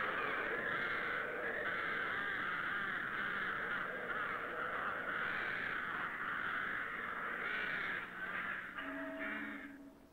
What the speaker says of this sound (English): the only music heard now is that of the new occupants, the birds.